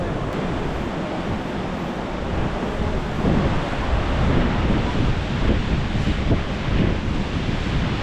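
Powerful rushing river water roaring along the gorge of the Caminito del Rey hiking path in Spain, a loud continuous wash mixed with wind buffeting the microphone.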